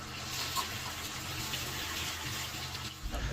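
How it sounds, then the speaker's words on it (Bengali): Pulao rice being rinsed with running water, a steady close splashing and pouring wash that continues evenly through the whole stretch with no talk. "প্রথমে আমরা পোলাওয়ার চাউলটিকে 2 থেকে 3 বার খুব ভালোভাবে ধুয়ে নেব।"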